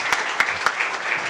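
Brief applause at a climate action gathering in London: a soft wash of clapping hands with a few sharper individual claps, short and moderately near.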